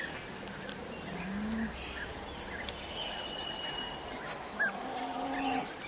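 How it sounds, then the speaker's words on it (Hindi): Faint, scattered bird calls and whistles sound in a forest in Valmiki Tiger Reserve over a steady bed of chirring insects, with one slightly louder call near the end. "चिड़िए की आवाज़ सुनिए पक्षियों की पक्षियों की आवाज़ सुनाई दे रही होगी"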